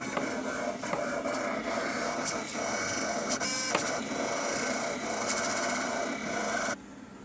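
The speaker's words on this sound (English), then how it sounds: "And the blade is going to cut the shape that I told it to cut." A USCutter vinyl cutter drives its blade through vinyl, a steady whirring motor hum with rapid ticking and chattering as the carriage shifts direction, running continuously until it stops abruptly near the end.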